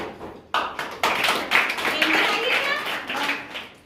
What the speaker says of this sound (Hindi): शिवानी के लिए जोरदार ताली